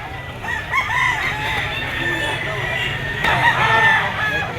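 Several roosters crow at a pet market, among them a young White Kelso stag of yellow-legged bloodline, their repeated cock-a-doodle calls rising and overlapping over steady crowd chatter and background noise.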